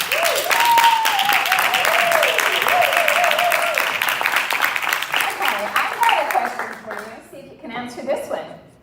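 Audience applause greets a speaker walking onto the stage at a Bahamas unity and heritage festival, a dense steady wash of clapping with cheering and shouting voices over it, fading and thinning out toward the end.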